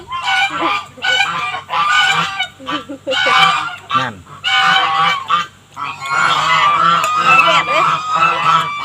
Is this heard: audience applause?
no